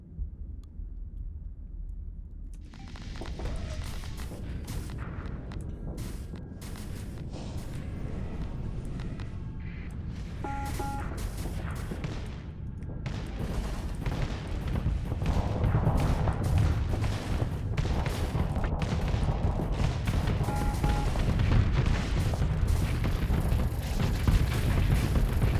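Heavy mortars in a modded Starsector space battle thump out slow, deep booms amid a dense wash of mechanical clatter and other weapon impacts, building louder over about twenty-five seconds.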